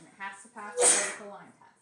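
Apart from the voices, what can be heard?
sneeze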